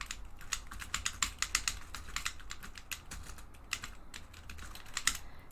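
Fast, steady typing on a handmade gaming keyboard with a real marble case, crisp clacky keystrokes in quick irregular bursts, close up and alone.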